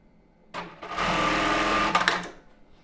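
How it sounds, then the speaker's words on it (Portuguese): A sewing machine stitching a strap onto an embroidered tulle bra, starting with a brief whir, then a steady close buzzing run of about a second before stopping with a few clicks. "Então, já vou costurar ele aqui,"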